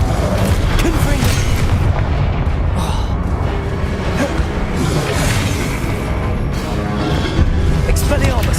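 A Confringo blasting spell fires in Hogwarts Legacy amid a busy magical duel, with dense, continuous rumbling booms and crackling impacts layered over one another at a steady, loud level.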